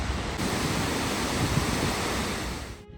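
Water gushing hard at a rugged Icelandic coastal spot, a steady loud broadband roar of rushing water mixed with wind buffeting, continuous for nearly three seconds before cutting off abruptly.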